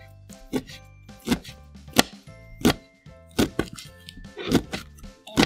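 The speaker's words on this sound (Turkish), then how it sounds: "İnce doğramak çok önemli. Biz de çok ince doğruyoruz şu an." A knife chops lettuce finely on a cutting board while bulgur salad is being prepared, giving about eight sharp, close thwacks in an uneven rhythm with quiet pauses between them and no talking.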